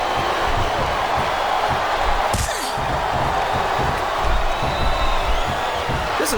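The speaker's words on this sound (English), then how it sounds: "I think this crowd's giving these superstars a piece of their minds, King." Wrestling arena crowd in the game WWE SmackDown vs Raw 2007 during a women's submission match, a loud, constant roar of cheering with scattered whoops and sharp slams cutting through.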